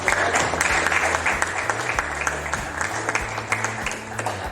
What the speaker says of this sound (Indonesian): Ya, aku boleh kasih tepuk tangan dulu untuk teman kita.